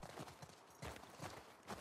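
Horse hooves clip-clop in The Last of Us Part 2 game, a quick, even trot of faint, close thuds that repeat in steady rhythm with no one talking over them.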